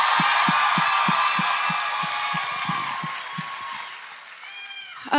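A live theatre audience at the Sony Centre in Toronto roars and applauds, a dense wash of crowd noise with steady rhythmic clapping or stomping underneath that slowly fades toward the end.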